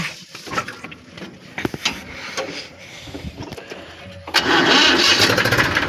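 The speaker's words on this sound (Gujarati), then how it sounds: "ટ્રેક્ટર ચાલુ કરી નાખીએ" A farm tractor engine cranks with uneven sputters and knocks for several seconds, then catches and settles into a loud, steady running rumble close by.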